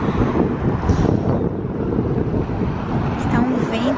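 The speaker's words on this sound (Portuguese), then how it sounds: "E tá ventando pra caramba." Strong wind gusts outside a hotel in San Francisco roar as a dense, steady rush against the microphone, with traffic rumbling underneath and a voice speaking over it.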